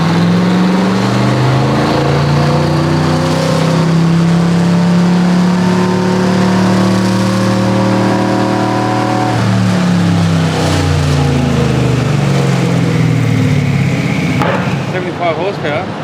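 A widebody Mercedes 190E EVO II running on a dyno, engine held at a loud, steady high-rev drone, then the pitch drops and climbs again before easing off near the end, with voices faintly under the roar.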